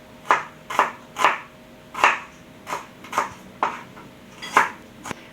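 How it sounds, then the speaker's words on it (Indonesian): Shallots are chopped finely with a knife on a board in a home kitchen, nine sharp, evenly spaced knocks over about five seconds, close and fairly loud, with no voices. "Bawang merahnya kita potong-potong ya bun, kita potong halus"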